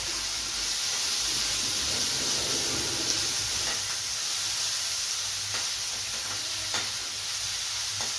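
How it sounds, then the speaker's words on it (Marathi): Tomatoes go into onions frying in a pan for shevbhaji, giving a steady, close, soft hiss and sizzle that carries on evenly with light stirring scrapes and no talking. "यानंतर मी त्यामध्ये टोमॅटो टाकणार आहे"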